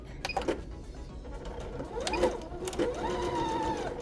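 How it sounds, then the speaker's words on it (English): A sewing machine stitches two layers of fabric together in short bursts, close by, whirring and clacking with brief pauses between runs. "As you sew, you're only sewing 2 layers of fabric together"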